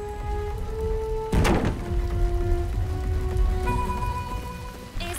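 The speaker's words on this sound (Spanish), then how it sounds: "Sí, es difícil trabajar bajo la lluvia." Cartoon rain falls in a steady wash of drops under sustained tonal music, with a sharp thump partway through and no speech.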